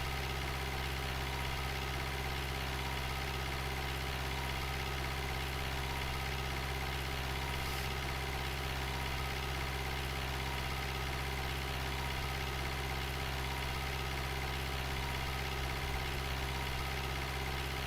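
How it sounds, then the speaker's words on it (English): A tractor in Farming Simulator 2011 hauls a large tipper, its engine a steady, low droning hum that holds an even pitch and loudness throughout, fairly quiet and uninterrupted, with no voices. "this tractor, it's trying its best to pull the large tipper"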